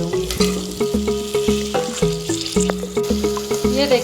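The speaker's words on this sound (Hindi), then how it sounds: "अब मैं इसमें मटर डाल के इसको फ्राई करूँगी" Mutton qeema with green peas fries in ghee, a spoon stirring and scraping the pan in a quick regular rhythm of about two strokes a second over a steady sizzle, close up with no talking.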